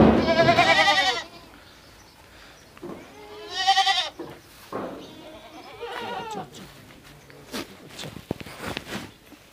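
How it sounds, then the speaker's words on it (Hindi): Goats bleat in a pen in Rajasthan, several loud, drawn-out calls near at hand followed by quieter scattered bleats and shuffling, with no talk. "देखें आपकी बकरियां कौन सी है।"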